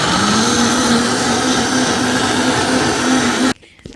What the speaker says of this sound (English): we're turning the lid on and we're going to blend her up